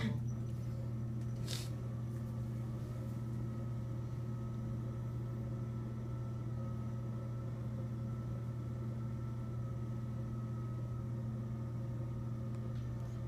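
A potter's wheel spinning while cups are thrown gives a steady, unbroken motor hum throughout, with a brief faint scrape early on and no speech.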